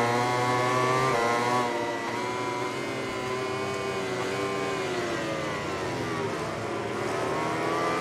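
A Yamaha racing motorcycle in a MotoGP-style game at the Termas de Río Hondo circuit screams at full throttle. The loud, close engine whine holds steady while its pitch shifts slightly through the gears.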